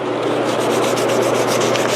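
Steady, continuous abrasive rubbing of a sanding sponge smoothing a finish coat before the final coat in a shop, close and even in loudness with a regular stroking rhythm and no talk.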